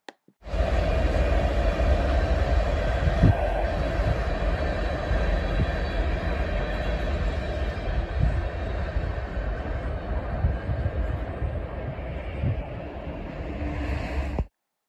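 A freight train with new 34-foot ballast hoppers rumbles past steadily for the whole stretch, a constant low roar with clattering rail noise and no voices, in central Ohio in winter.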